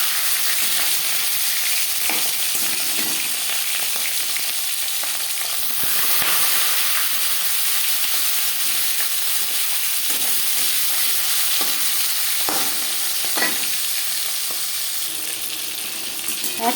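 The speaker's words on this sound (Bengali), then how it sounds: "যেহেতু ইলিশ মাছ হালকা করে ভেজে নেব।" Marinated hilsa fish frying in five spoons of hot mustard oil, a loud, continuous sizzle and crackle close by, with occasional sharper spits and stirring clinks.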